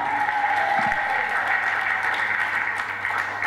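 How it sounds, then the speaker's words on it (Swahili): A church congregation claps hands together during a lively sermon, a steady dense wash of applause that runs unbroken throughout, with a preacher's voice and a sustained tone underneath. "Piga makofi, piga makofi"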